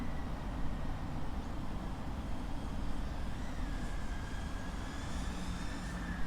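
A GepRC Rocket Lite FPV drone cruising around a park and castle gives a steady, fairly faint buzzing whine over broad wind-like noise, with rising and falling motor tones near the end.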